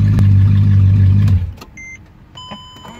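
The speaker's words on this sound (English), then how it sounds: "Shouldn't be revving the engine this much without the proper brake in" A rebuilt Mercedes E55 engine revs hard and loud, then cuts off abruptly, leaving a quieter car interior with a few electronic chimes and beeps.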